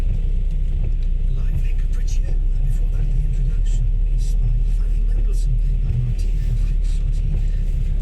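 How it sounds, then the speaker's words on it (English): A Range Rover engine rumbles low and steady as the vehicle slowly pulls out of a tight spot, close and loud, with a voice talking over it. "it's difficult pulling out of there, especially when you got a Range Rover"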